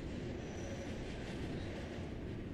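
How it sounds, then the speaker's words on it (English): A train arriving in the video game Mirror's Edge: a steady, dense low rumble with a broad hiss, loud and continuous throughout with no pause. "Okay, and then this train is gonna come."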